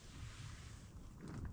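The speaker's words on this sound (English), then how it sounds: "It's a little chillier and it sounds a little windy outside." Steady wind rushes and rumbles outside a tent on an early winter morning in Georgia, a continuous low blustery noise with gusts swelling near the end; no voices.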